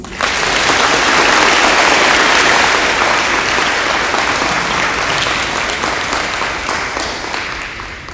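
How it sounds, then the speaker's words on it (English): Sustained audience applause at an MCJROTC awards ceremony, loud and steady from the start, thinning slightly toward the end with no one speaking. "Ladies and gentlemen, please join me in a round of applause."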